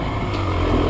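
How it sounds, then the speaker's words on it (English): A Beta Xtrainer motorcycle engine runs steadily close by, a dense, vibrating drone that holds level through the second with no pauses. "This engine vibrates a lot."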